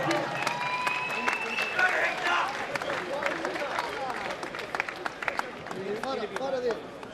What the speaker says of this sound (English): Big round of applause as well, ladies and gentlemen, to Jesse JT Money Taylor.